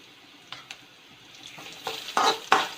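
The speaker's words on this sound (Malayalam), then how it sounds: "അതൊന്ന് സ്പൂൺ കൊണ്ട് ഇതുപോലെ ഒന്ന് ഇളക്കി കൊടുക്കുക." Garlic and ginger fry in oil for a pickle while a spoon stirs them; quiet sizzling builds into louder, repeated scraping strokes toward the end.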